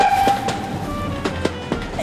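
A train passes over track points, heard from a camera mounted on the front of the train, with a steady low rumble and a few sharp metallic clacks as the wheels cross onto the other track.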